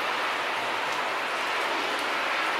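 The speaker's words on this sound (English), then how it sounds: "but that is rain." Steady, dense hiss of summer rain falling in Colorado, continuous and fairly loud throughout with no voices.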